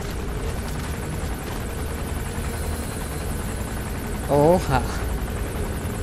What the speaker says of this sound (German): Der Helikopter.